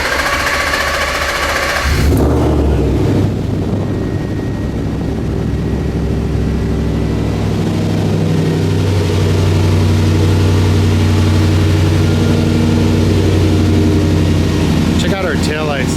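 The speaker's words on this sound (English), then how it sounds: "Let's fire this bad boy up. They are really rowdy sounding motor." A rowdy ICON vehicle motor fires up after a brief crank and settles into a loud, steady idle with a throbbing low rumble, close by, a voice talking briefly over it.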